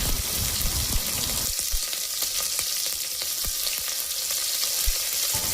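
Spices sizzle and crackle steadily in hot oil for tempering, with green and dried chillies, a dense, continuous frying hiss with occasional sharper pops and no voices.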